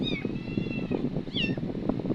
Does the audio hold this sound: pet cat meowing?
yes